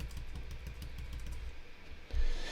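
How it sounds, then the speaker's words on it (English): Arrow keys pressed repeatedly on a computer keyboard while stepping through a video editor frame by frame, giving a quick run of close, soft taps with a heavier thump near the end. "So I'll use the arrow keys on the keyboard to go frame by frame"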